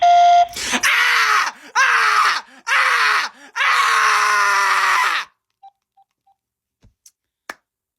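A man screams loudly several times in a row in a recorded phone clip, four harsh bursts with short gaps, followed by faint clicks and near silence.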